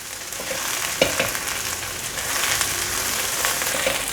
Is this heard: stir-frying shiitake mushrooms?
yes